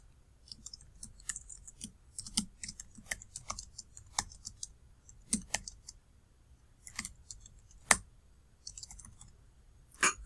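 Typing code on a computer keyboard: irregular bursts of crisp key clicks with short pauses between them, close and fairly quiet, with no talking.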